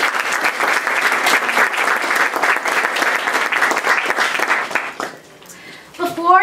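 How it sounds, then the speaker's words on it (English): Audience at a 3D printing and STEAM education event gives a loud round of applause for sponsors, dense clapping that fades near the end as a voice begins speaking. "So if we could give them a round of applause."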